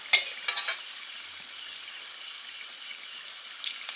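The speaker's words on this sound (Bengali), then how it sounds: "টমেটোর চাটনি আমি দিচ্ছি তেলে কালো জিরে" Black cumin seeds sizzle in hot oil for a tomato chutney, a steady bright crackling hiss with a couple of sharper pops near the start and end, alone without talk.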